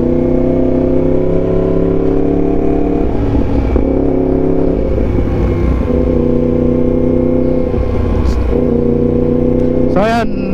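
A Yamaha MT-10 SP motorcycle engine roars steadily up close on a test ride, its pitch rising and falling as it accelerates, ending in a sharp rev.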